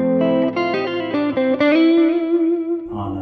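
A Schecter C-1 SLS Elite electric guitar on its neck pickup plays a clean tone, a run of ringing single notes and chords picked one after another, loud and close, with no talk.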